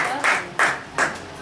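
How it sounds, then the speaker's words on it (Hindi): Three sharp group claps ring out in quick succession from an audience at a Bible study, each burst brief and bright with short gaps between. "तालियां।"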